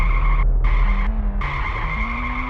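A car in the Ice Cream 1 video game, with a steady droning engine whose pitch steps up and down between long tire skids. The sound is loud and close.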